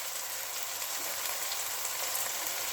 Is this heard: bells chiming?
no